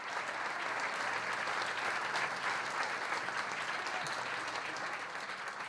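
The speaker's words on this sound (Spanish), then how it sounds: "Un aplauso para los compañeros." Dense audience applause at a Peronist party political event featuring Cristina Kirchner, a steady, even wash of many hands clapping that holds at constant loudness throughout.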